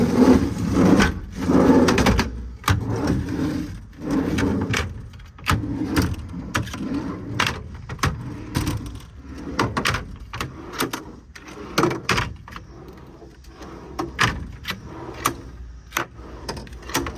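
C-Tech drawers in the mechanics body of a 2019 Ford F550 service truck slide open and shut repeatedly, giving a steady series of short, sharp metallic clacks and rolling slides at close range, with no talking.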